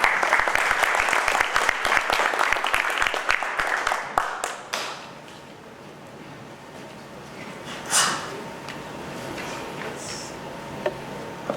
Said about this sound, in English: let's give a big round of applause while he gets set up